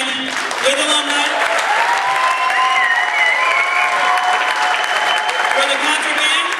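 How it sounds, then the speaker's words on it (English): Audience applause at a high school cafe concert in Winfield, clapping for the school jazz band with alumni. Dense, steady clapping from a large crowd holds at an even level for the whole stretch, with scattered cheers mixed in. "of applause for the jazz band with alumni"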